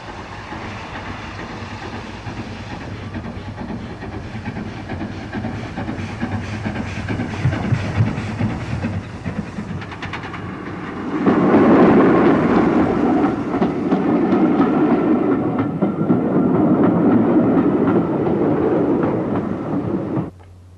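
A Keighley and Worth Valley Railway train arrives at Haworth station during a snowstorm, its steady rumble and rail clatter swelling louder and nearer about halfway through, then holding at close, heavy volume.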